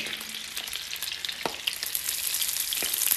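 Onions sizzling in butter in a pan for fried ramen, a steady close hiss of frying with a few sharper crackles and spoon scrapes, growing slightly louder toward the end.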